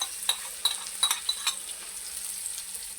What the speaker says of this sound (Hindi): लहसुन को हम हल्का सा फ्राई करके डालेंगे